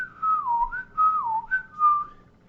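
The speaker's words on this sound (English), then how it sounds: "there's this whistle they do" A tuneful whistle from the film The Court Jester, starring Danny Kaye, glides up and down in a short wavering melody of a few phrases, clear, close and alone.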